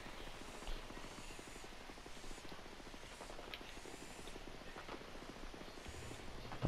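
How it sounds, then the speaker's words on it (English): Drone flying in Ghost Recon Wildlands, a faint continuous buzzing whir with a fluttering rotor pulse, steady and low in level with no talk. "Drone is airborne."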